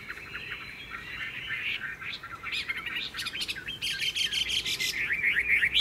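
A Chinese hwamei songbird sings a loud, close, varied song of rapid whistled phrases and trills that grows busier and denser toward the end, with no talking over it.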